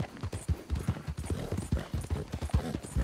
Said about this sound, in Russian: слышишь, как лошадь хрюкает, копытами стучит